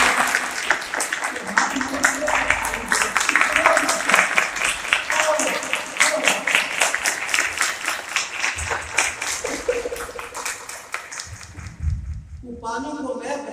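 A church congregation applauds loudly for a sustained stretch, dense clapping filling the room while voices carry over it, before the applause fades out near the end.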